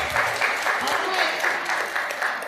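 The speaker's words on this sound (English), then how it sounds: "let us give them a round of applause" Audience at a STEAM Week panel in New York applauding, a moderate, rhythmic patter of clapping with pulsing bursts, mixed with faint voices underneath.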